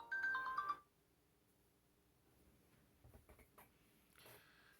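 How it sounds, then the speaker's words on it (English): A second mobile phone rings briefly with a short melodic tone, then cuts off and leaves faint room noise with a few soft sounds. "oh, that's my other phone."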